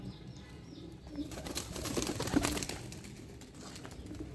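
Pigeons cooing softly nearby in a home loft setting, with low murmuring calls and a slight swell in the middle, fairly faint against light background rustle.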